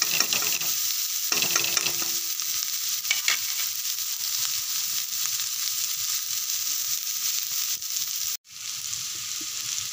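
Chopped ingredients for egg fried rice fry in a hot pan with salt and turmeric, giving a steady close sizzle broken by scraping stirs of a spatula; the sizzle cuts out briefly near the end before returning.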